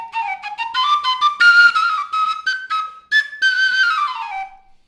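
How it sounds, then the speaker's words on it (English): An Aboriginal fixed whistle flute from the Sierra Nevada de Santa Marta, with a sharpened cactus heart forming the whistle, plays a breathy melody of short repeated notes that climb then glide down, loud and close. "the end of this cactus heart is actually sharpened a little bit to create the whistle"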